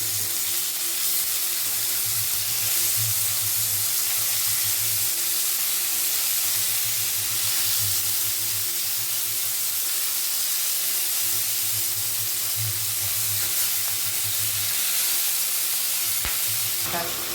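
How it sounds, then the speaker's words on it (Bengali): Fish fries in a pan of hot oil, a close, steady hiss and sizzle running unbroken for the whole stretch with a faint low hum underneath and no talking. "মাছটা একটু ভাজা হোক"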